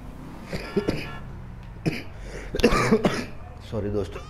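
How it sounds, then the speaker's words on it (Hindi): A person with a mild cold coughs and clears their throat in a few short bursts near the microphone, set against a background of game audio. "इसलिए खांसी आ रही है।"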